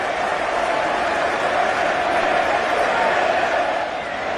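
Cricket crowd at an Ashes match giving a standing ovation, a steady, dense roar of applause and cheering that holds at full strength throughout, with voices blended into the wash.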